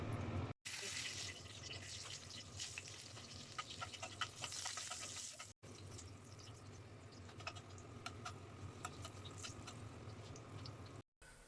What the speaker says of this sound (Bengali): মরিচগুলোকে ভেজে নেওয়ার জন্য কড়াইতে দিয়ে দিচ্ছি।